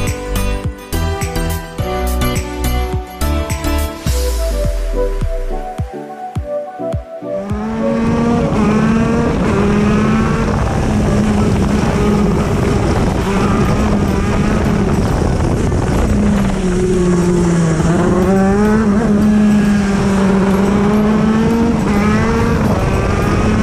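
A 125cc KZ1 shifter racing kart with a gearbox, heard after some brief clattering at the start, gives a loud, close, high-pitched two-stroke engine wail that rises and falls with each gear change and throttle lift through most of the run.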